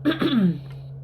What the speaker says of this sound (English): Don't mean to keep having to clear my throat.